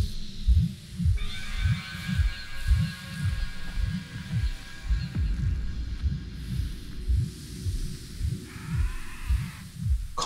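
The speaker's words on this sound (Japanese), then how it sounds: "なんか心臓の音みたいな。" Heartbeat-like throbbing inside a cave in the video game Starsand: a steady, low pulsing beat repeating about once a second under a faint droning hum, with no voices.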